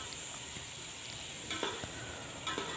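Onion, ginger-garlic paste and tomatoes sauté in a pan for corn rice pulao, giving a soft, steady sizzle with a few light utensil clinks and stirring scrapes close by.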